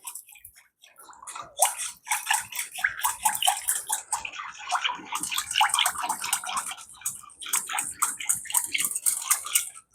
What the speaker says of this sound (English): And I'm going to give it a good whisk.